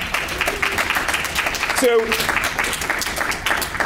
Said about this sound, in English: Round of applause, please, for Sarah.